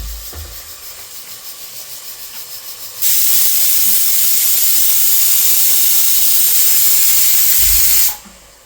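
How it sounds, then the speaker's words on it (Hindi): A pressure cooker boiling on a home stove lets out a loud, steady hiss of steam that bursts on suddenly, holds for several seconds, then cuts off. "कुकर में सिर्फ बॉईल हो रहे हैं"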